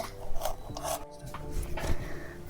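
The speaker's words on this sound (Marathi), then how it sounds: "मी आता याची ना हे देठ कट करून घेते" Stems of bharangi, a wild leafy vegetable, are cut by hand, giving a few close, rasping, scraping strokes with short gaps between them and no talk.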